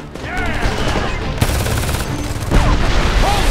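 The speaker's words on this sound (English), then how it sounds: "Don't stop shooting!" Heavy gunfire from the first-person shooter Homefront, dense rattling bursts with booming impacts filling the whole stretch, growing louder near the end, with faint voices underneath.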